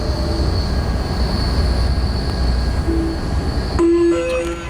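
Amtrak Capitol Corridor passenger train on the Richmond–San Jose route rolling along the rails, a steady loud rumble from inside the car with rising squeals and tonal wheel whines near the end.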